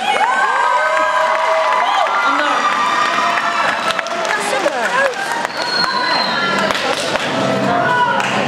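A school concert audience bursts into loud cheering, whooping and clapping after a 1960s song performance, with shrill children's shouts and many voices over a dense crowd roar.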